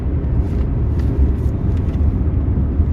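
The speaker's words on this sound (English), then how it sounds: "it does get really noisy up in the rev range" An MG HS PHEV plug-in hybrid SUV's engine drones loud and steady at high revs, a dense low rumble heard from inside the cabin with no talk over it.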